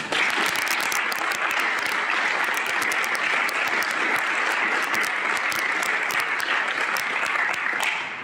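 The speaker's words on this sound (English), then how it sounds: "Let's give them a round of applause." An auditorium audience at a National Honor Society induction applauds the new members with dense, sustained clapping that holds steady for several seconds before easing off at the end.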